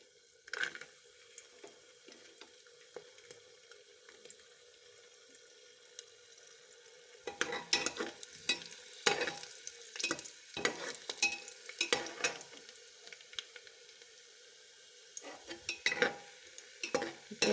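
Raisins frying in hot oil for pulao, with soft bursts of sizzling and stirring that come in clusters, first faint and sparse, then busier and louder in the second half.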